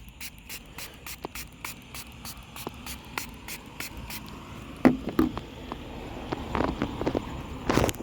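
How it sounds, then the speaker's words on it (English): A handheld spray bottle mists diamond prep cleaner onto a car body panel, giving a series of short, hissing spritzes at close range that repeat in quick bursts and grow louder and denser toward the end, with no talking. "It's just a spray bottle,"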